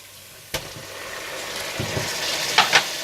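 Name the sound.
frying tomatoes with coriander powder and salt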